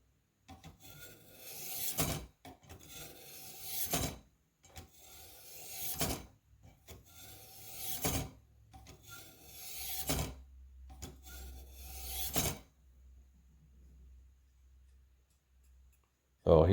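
A knife edge is drawn along the fine 1000 grit rods of a Warthog sharpener, six even rasping strokes about two seconds apart, close and clear, followed by a few seconds of quiet.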